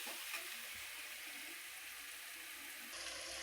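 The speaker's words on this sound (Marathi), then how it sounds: "चांगलं अंड फ्राय होऊ द्यायचं बरं का." An egg frying in oil in a pan, a faint, even sizzle that holds steady throughout with no talking.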